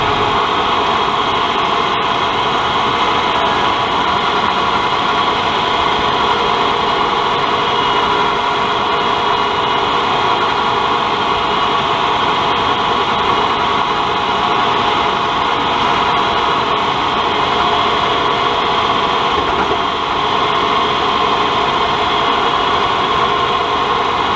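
A tractor engine drones steadily and loudly without a break while power harrowing, a constant low rumble with a mid-pitched hum, close and unchanging throughout.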